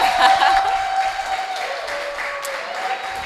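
Applause from a TEDx crowd at Cipero Street, a thick burst of many hands clapping that stays strong and fades only slightly over a few seconds.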